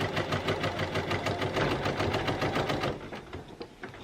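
A sewing machine backstitching through a denim jacket lining at the underarm seam runs steadily and loud, with a rapid rhythmic needle chatter that slows and turns uneven near the end.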